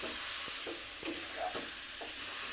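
A dry pithe dough mixture is stirred in a pan for gokul pithe. A soft sizzling hiss runs underneath, and about five short, evenly spaced scraping strokes sound close by.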